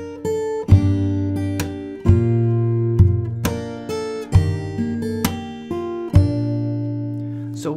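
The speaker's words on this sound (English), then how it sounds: "And then we play the bridge and it sounds like this." Solo fingerstyle acoustic guitar plays the bridge of a song, with plucked chords ringing out one by one at an unhurried pace. It is close and clear, and no one speaks.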